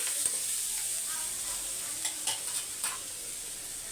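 Cut broad beans stirred into onions frying in a pan, a steady close sizzle with a few scraping stir strokes of a spoon in the pan, no talk.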